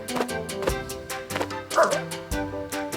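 A dog character barks in the Pac-Man World 2 Re-Pac game, a run of short woofs over game music, close and clear.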